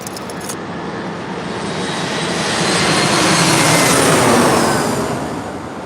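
Airplane arriving at San Diego Airport, a broad engine roar that swells from a distance, peaks loud and close, then begins to fade, with no talking.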